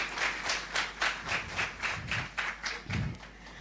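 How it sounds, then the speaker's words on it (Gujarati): A crowd at a Vishwakarma Jayanti festival gathering in Mumbai claps together in a steady, rhythmic beat. Each clap lands loud and even, with a few low thumps mixed in. "આ આખી ટ્રસ્ટ કમિટી અને ઉત્સવ કમિટી માટે જોરદાર તાળીઓ"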